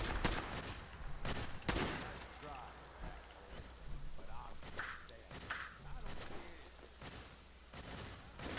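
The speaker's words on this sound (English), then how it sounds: "What is still shooting at me?" Gunfire in Fallout 4 at an amusement park, several sharp cracks spaced irregularly through the clip with a quieter stretch in the middle, a voice speaking briefly between shots.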